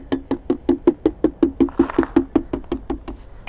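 Lead flashing on a roof is tapped into place before soldering, about sixteen evenly spaced, rapid dull knocks in a steady rhythm, close and alone outdoors.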